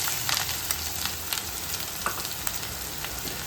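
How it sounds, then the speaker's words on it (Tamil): A whole chopped large onion sizzles steadily in hot coconut oil with fried fennel seeds, with occasional stirring ticks, a close continuous frying hiss for a Kerala-style egg curry. "எடுத்து வச்சிருக்கிற பெரிய வெங்காயம் ஒரு வெங்காயம் ஃபுல்லாக போட்டுக்கலாம்"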